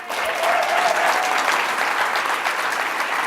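At an 'Enough is Enough' campaign event, an audience breaks into loud, sustained applause for Nancy Pelosi, a thick, even roar of many hands clapping without pause.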